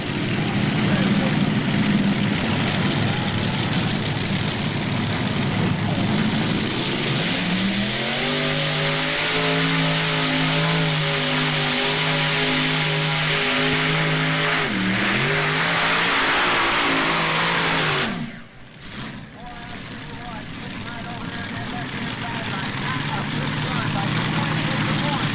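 A modified pulling tractor powered by twin Allis Chalmers engines roars loudly and steadily, rising in pitch as it pulls at a tractor pull, then cutting off briefly before building again, with an announcer talking over it.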